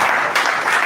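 Audience applause after a keynote lecture, a dense, steady wash of many hands clapping at once, loud and continuous throughout with no pause.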